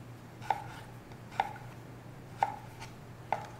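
A knife chops vegetables into tiny brunoise cubes on a cutting board for chop suey rice, with four sharp, evenly spaced taps close by over a low steady hum.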